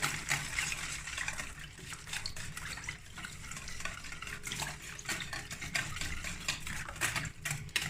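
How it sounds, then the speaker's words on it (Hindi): Eggs whisked into milk in a bowl for an egg milk paratha, a steady run of quick rhythmic liquid sloshing and clicking strokes, close and continuous without any talking. "अंडों को अच्छे तरीके से दूध के अंदर बीट कर देंगे।"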